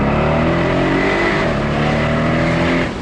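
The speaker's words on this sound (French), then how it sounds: "même si le moteur est turbo compressé, il chante comme un atmo, il crépite" Mercedes SL 63 AMG turbocharged engine revving loud and close, a continuous rising and falling harmonic roar with crackles, sustained for about three seconds and fading slightly at the end.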